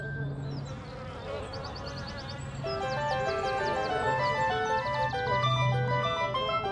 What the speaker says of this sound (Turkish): Bal arıları vızıldıyor.